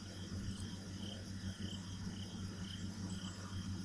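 Crickets chirping in the visual novel Everlasting Summer, a soft steady trill of insect calls pulsing in regular bursts over a low constant hum, faint and alone with no voices.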